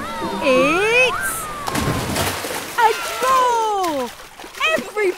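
Cartoon water splashes and slooshes at water park slides, with a burst of splashing in the middle under overlapping animated voices and squeals.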